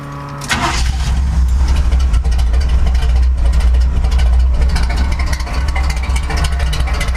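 Chevrolet C10 pickup truck engine, just repaired, cranks and catches, then settles into a loud, steady, close rumbling idle with a deep low throb.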